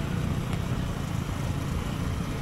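A Suzuki Gixxer motorcycle being ridden, giving a steady, continuous engine drone with low rumble, moderately loud and unbroken throughout, with no talk over it.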